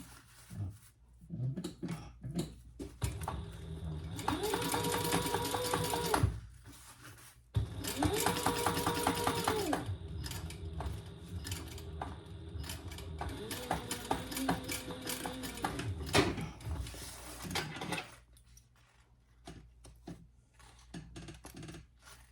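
A sewing machine top-stitches the open end of a fabric loop for a pack, running in two long steady bursts of rapid stitching separated by a brief pause, with quieter handling before and after.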